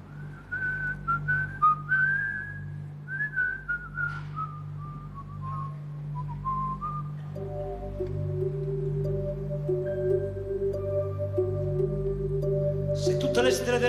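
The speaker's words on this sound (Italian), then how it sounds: "C'era anche un fischio, come c'è?" A live whistled melody from a 2002 concert performance of an Italian song, clear and sustained over steady band accompaniment, with a brighter burst near the end.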